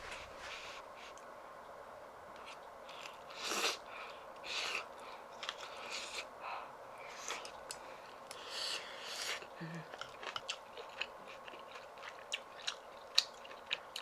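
Someone eats meat in homemade mala sauce, with quiet, close chewing and small wet crunching clicks scattered unevenly throughout.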